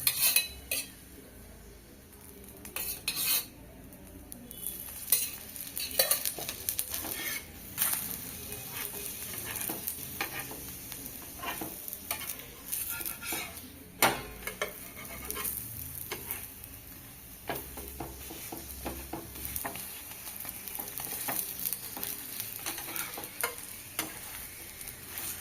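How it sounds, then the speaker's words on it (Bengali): Onion paratha frying in white oil in a pan, a soft continuous sizzle broken by frequent clinks and scrapes of a utensil turning the flatbread, close and moderately quiet with no voices. "পেঁয়াজ পরোটা সেঁকে নিয়েছি বন্ধুরা"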